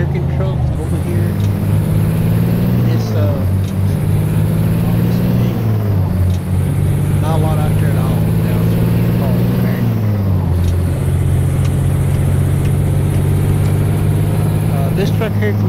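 An American Mack truck engine in Euro Truck Simulator 2 drones loud and steady, its pitch rising and dropping through gear changes, with a voice talking over it throughout.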